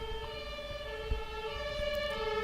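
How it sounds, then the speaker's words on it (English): An ambulance siren wails outside, a steady multi-tone howl that holds at moderate, slightly distant level for the whole stretch, with a faint room thump partway through and no talking. "there's a lot of ambulance happening today"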